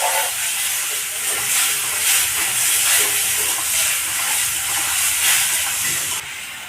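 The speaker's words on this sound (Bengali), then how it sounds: "হলুদ গুঁড়ো, অল্প জল দিয়ে মশলাটাকে কষে নেব" Masala spices with salt, turmeric and a splash of water sizzle and hiss loudly in a hot pan, a dense, continuous frying crackle close up with gentle surges throughout.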